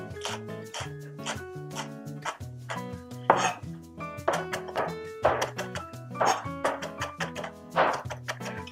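Knife chopping a balled-up cabbage on a board in a kitchen: a quick, uneven run of crisp thunks, close and fairly loud, over steady tonal background music.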